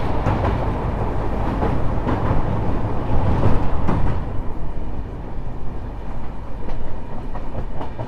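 A passenger train running just after leaving Gulma station toward the Mahananda river on the Siliguri to Alipurduar line, a steady loud rumble with rattling and clatter from inside the carriage throughout.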